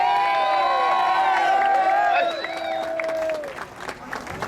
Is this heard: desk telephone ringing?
no